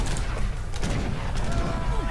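Cannon fire in Age of Empires III, dense booming blasts in quick succession amid constant battle noise, loud and close.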